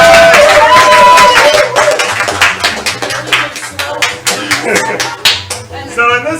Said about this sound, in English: So let's clap for them as they leave the